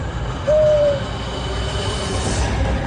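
An owl gives a single clear hoot, a short sustained call over a steady background hum, in a magical fantasy adventure setting.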